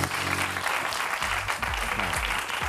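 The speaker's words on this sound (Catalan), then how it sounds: "Un aplaudiment pel conseller." Studio audience on a TV show clapping for a guest, steady dense applause filling the whole stretch, loud and close, with faint voices and music under it.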